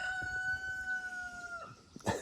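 A rooster crows once in a long, sustained call that holds steady and then drops off, fairly close and clear over quiet farmyard background, followed by a brief rustle; no talk.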